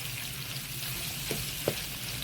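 Two large onions, cut into chunks, fry in a hot pan for chicken fajitas with soy sauce. A steady, even sizzle carries through, with a couple of brief soft knocks from stirring and no voices.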